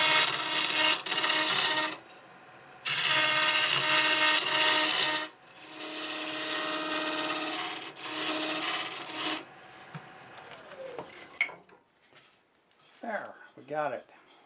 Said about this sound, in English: Got my 1/2-inch bowl gouge. About 975 RPM. I'm just going to clean this up.